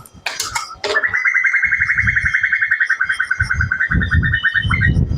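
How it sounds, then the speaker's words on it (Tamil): An Asian koel calls near a village temple set among paddy fields, a long series of rapid, rising repeated notes held for several seconds, loud and close, with some brief rustling and handling noise beneath. "குயில் ஒன்று கத்துற"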